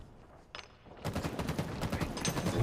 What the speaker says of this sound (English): Oh, that's a great grenade.